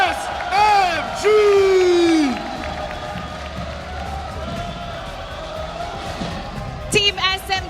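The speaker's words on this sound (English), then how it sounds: "Let's give a big round of applause for Team" An arena crowd at the M5 World Championship esports event applauds and cheers for Team SMG, a steady wash of clapping and cheering beneath an announcer's amplified voice and music.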